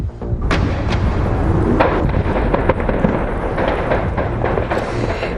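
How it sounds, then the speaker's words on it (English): Repeated loud explosions and sharp bursts of gunfire crackle and echo as French security forces storm hostage sites, a dense rapid barrage continuing throughout with no talking. "Explosions and gunfire as a coordinated operation is launched to bring both sieges to an end."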